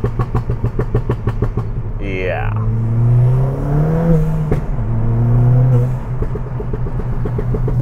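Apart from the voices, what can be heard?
Ford Fiesta ST engine revving while downshifting into second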